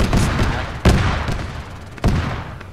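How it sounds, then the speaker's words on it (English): Heavy 20 mm cannon fire in Arma 3, two sharp booming shots about a second apart over a continuous rumbling background of battle noise. "that's a 20 millimeter cannon on that puppy"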